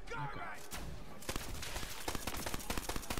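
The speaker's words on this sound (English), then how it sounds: "It only takes like 12 shots for me to warm up, then I start hitting stuff" Rapid bursts of gunfire in Borderlands 3: a loud crack near the start, then a dense run of sharp, close shots rattling off in quick, uneven succession.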